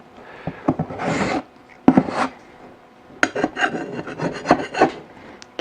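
Scraping coating off a Ka-Bar Becker BK-10 knife blade, a close, gritty rasping in short bursts with brief pauses and a few sharp ticks, no talk.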